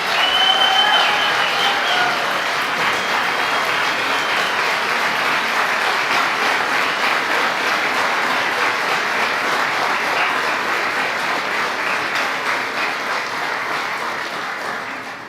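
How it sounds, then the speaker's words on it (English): A large crowd at an event in Auburn Hills, Michigan gives Second Lady Usha Vance a loud, sustained round of applause that holds steady for many seconds before easing slightly at the end. "A big round of applause for our amazing Second Lady,"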